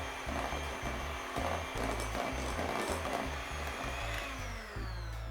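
Electric beaters whir steadily and loudly through keto chocolate cookie batter containing egg, a continuous close motor hum with slight rhythmic wobble and no pauses.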